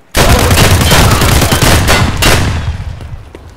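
Gunfire in the shooter game Escape from Tarkov: a sudden loud burst of rapid shots, close and dense, that tails off over a few seconds with no talk.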